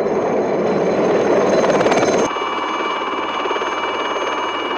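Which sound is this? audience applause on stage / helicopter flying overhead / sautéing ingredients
helicopter flying overhead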